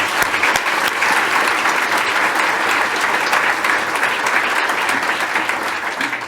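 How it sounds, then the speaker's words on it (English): Sustained applause from an audience at a county government address luncheon, steady and dense clapping throughout, loud and close with no talking over it. "let's give a great round of applause to the staff here at Shenandoah for the great lunch."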